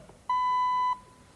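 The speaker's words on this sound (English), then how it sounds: "Could you please leave your name and number and I'll call you after the tone." A single answering machine beep, a clean steady electronic tone lasting just over half a second, loud and close, with near silence before and after.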